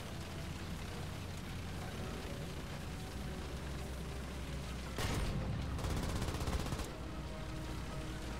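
A 90mm tank gun fires in War Thunder, one loud booming shot standing out over a steady rumbling engine drone, followed by a short burst of sharp crackling.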